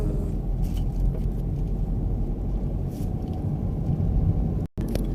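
Manual car pulling away from a stop during a driving lesson, heard from the back seat: a steady low engine and road rumble filling the cabin, with a brief dropout near the end.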